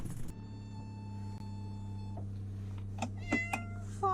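Kittens in a carrier, riding in a cart on the way to the vet, give faint short meows over a steady low vehicle hum.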